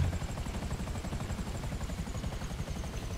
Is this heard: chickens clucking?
no